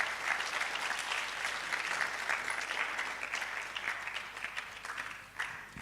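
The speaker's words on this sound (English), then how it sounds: "Please, let's give him a big round of applause." Sustained applause from a lecture audience at a medical college public lecture, dense and steady clapping filling the room for several seconds without speech.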